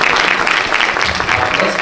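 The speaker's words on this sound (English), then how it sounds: "Round of applause for that" A crowd at a film premiere gives a round of applause, steady dense clapping throughout.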